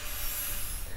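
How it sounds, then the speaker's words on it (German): A machete blade is drawn across the spinning flap disc of a running angle grinder, giving a steady, close, gritty hiss of abrasive grinding with a constant motor drone underneath. "lasse den mit eingeschaltetem Schalter laufen und ziehe dann einfach die Machete von beiden Seiten über die rotierende"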